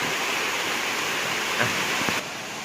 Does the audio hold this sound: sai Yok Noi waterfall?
yes